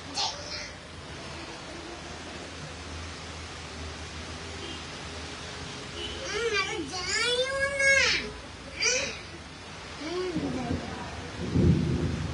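Rain falls steadily during a storm in Dhaka as thunder rumbles low in the distance, with a deeper roll near the end. Adults and someone talk over the storm.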